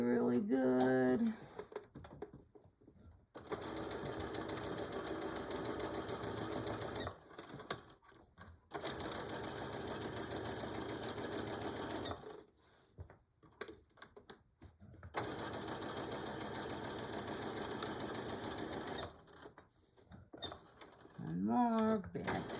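A sewing machine stitches a canvas beach or diaper bag, running in several long steady whirring passes separated by short pauses for backstitching, with a voice speaking at the start and end.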